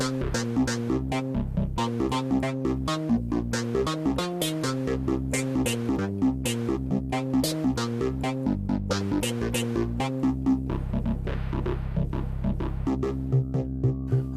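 A Roland Juno-Di synthesizer plays rhythmic chords with plucky notes whose velocity-controlled filter brightness opens and closes with each hit, over a steady low bass, with no voices.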